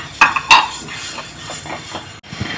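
Urad dal roasting in a pan gives off light clinks and scrapes of a spoon stirring the dry lentils, two sharper knocks early on, then softer irregular rattling.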